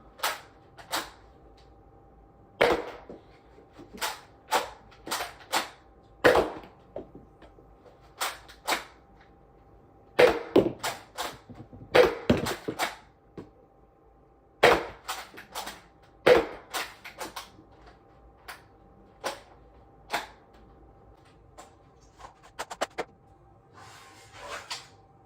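A Nerf Rival Mirage blaster fires blue Accu rounds, giving sharp, close snapping shots. They come singly and in quick clusters, separated by quieter mechanical clicks and pauses.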